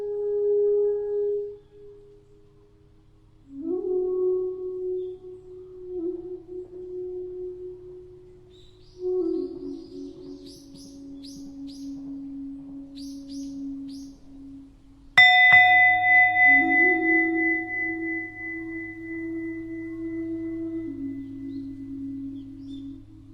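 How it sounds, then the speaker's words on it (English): A meditation bell struck and left to ring, its clear tone sustaining and slowly fading away, then struck again with a sharper, brighter onset that decays gradually into quiet. "listen to the sound of the bell, especially as it fades away"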